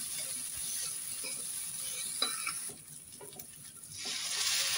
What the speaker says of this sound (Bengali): একটু লঙ্কা গুঁড়ো দিলাম, একটু ফেটানো টক দই, মশলাটা আমি ভালোভাবে কষিয়ে নেব।